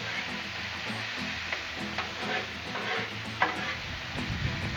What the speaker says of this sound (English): while that burger's cooking, it's always good to go ahead and keep on flipping that bacon around over here